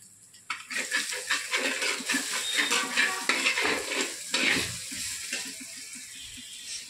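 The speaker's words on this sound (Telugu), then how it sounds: "మెత్తగా టమాటాలని ఇలా పిసుక్కోవాలి." Ripe tomatoes squeezed and mashed by hand in a bowl, giving wet squelching and splattering bursts in an uneven rhythm close by, with occasional clinks of the container and no talking.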